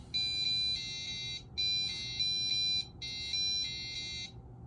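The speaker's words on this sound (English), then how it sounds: "it's blinking and playing a tone, indicating the alarm is active" A security alarm system sounds its tone in three loud, steady high-pitched electronic bursts with brief gaps between them, heard alone in a quiet room.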